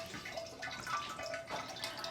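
Water trickles steadily from a small thrifted Buddha statue fountain, pump turned to its lowest setting, with soft continuous splashing and a few brighter drips close by.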